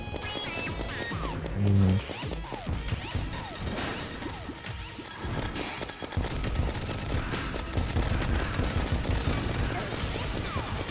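Rapid gunfire and impact crashes from the video game Terraria come in quick bursts and smashing hits over a busy layer of game effects and music, loud and dense throughout.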